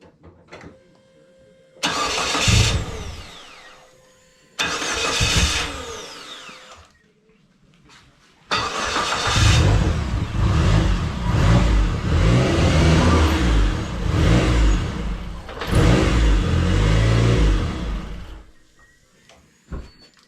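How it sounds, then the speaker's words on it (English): A newly bought car's engine cranking and catching, then revving unevenly, spitting and sputtering in loud bursts separated by short pauses, close by and without talk. "I started revving it up and it was spitting and sputtering."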